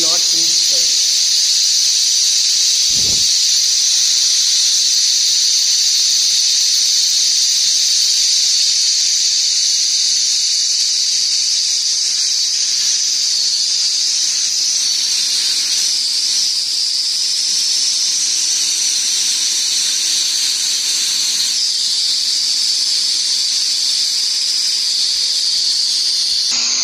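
A centerless internal grinder runs steadily for the whole stretch, giving off a continuous high-pitched hiss and whine of the kind a machine shop makes. It stays close and loud throughout, with one brief low knock near the start.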